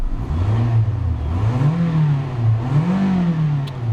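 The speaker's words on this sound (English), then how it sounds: "Revs up nicely, idles smoothly." A 2012 Mitsubishi Outlander SE Sport engine revs repeatedly, its pitch rising and falling in smooth swells, close and steady throughout.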